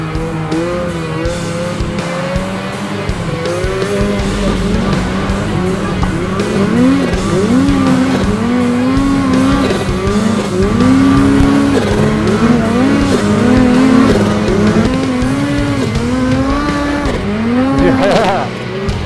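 A turbocharged snowmobile engine revs hard through repeated wheelies in the Silent Pass riding area near Golden, British Columbia, its pitch climbing and dropping in loud surging waves that build toward the end.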